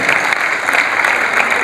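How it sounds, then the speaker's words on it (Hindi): Loud, steady applause from an audience at a Jain religious ceremony in India, dense clapping sustained throughout without a break, with no voices rising above it. "जोरदार तालियां बजाइए"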